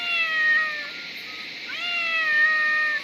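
A cat met along a path on the way home from picking hill cucumbers in Himachal meows twice, close and clear, each call a drawn-out, rising-then-falling cry against a steady background hiss.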